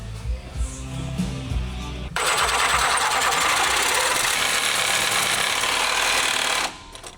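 A Sawzall reciprocating saw cuts through a bolt on a Toyota, starting abruptly after quieter mechanical clatter and buzzing loudly and steadily for about four and a half seconds before stopping.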